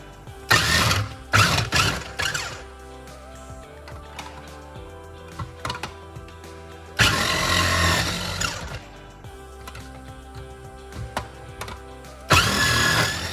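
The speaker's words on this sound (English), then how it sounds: "Food processor just to make things quick and easy." A food processor chopping runs in several loud bursts of whirring motor noise, separated by quieter stretches of mechanical hum and rattling.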